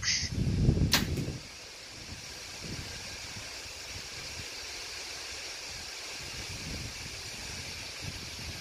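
A single sharp arrow impact on an archery target during an outdoor Vegas round, preceded by a brief rushing flight and followed by quiet ambient noise.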